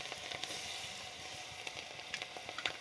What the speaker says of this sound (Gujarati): થોડી વાર આપણે એને તેલમાં સડવા દઈએ